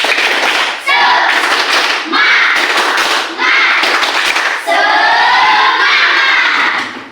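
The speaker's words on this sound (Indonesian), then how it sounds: "ditambah dengan tepuk semangat" Schoolchildren in a classroom do a rhythmic spirit clap, loud bursts of clapping and thumps mixed with children shouting and chanting together in several energetic phrases.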